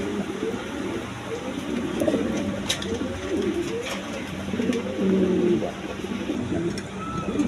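Large, high-quality Bolder Shoking pigeons at a bird sale coo in repeated low, rolling phrases, close and fairly loud, with a few sharp clicks and faint background murmurs between calls.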